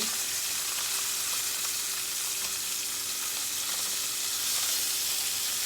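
Chicken searing in a hot pan before going into a slow cooker makes a loud, constant sizzle and hiss with faint spatters, steady from start to finish with no voices.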